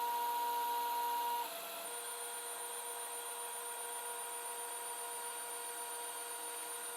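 A 3D printer with an E3D V6 clone hot end and 0.4 nozzle prints black PLA, a faint steady whine of stepper tones and hum that shifts pitch slightly early on, heard alone.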